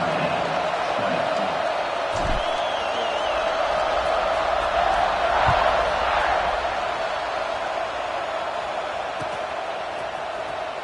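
A football stadium crowd in a Notre Dame vs Penn State game keeps up a broad, sustained roar and cheering at kickoff, distant and steady, with a commentator's voice faintly under it.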